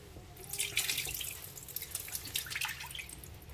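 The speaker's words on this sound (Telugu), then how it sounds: "నీళ్ళు వేసి బాగా కడగాలండి." Water splashes and trickles steadily as bitter gourds are rinsed under running tap water in a sink, close and fairly quiet, with no voices.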